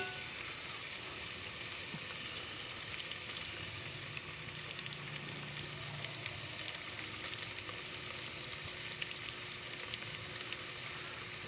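Tofu sizzles steadily in a hot pan while being cooked for a mung bean stew, a continuous crackling fry with light stirring, alone and without any talk.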